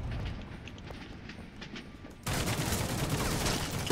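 Gunfire in a third-person shooter game: a muffled, noisy stretch gives way to a sudden burst of loud, dense shooting that continues as a steady rattling fusillade.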